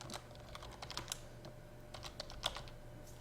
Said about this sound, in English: You can go ahead and start typing.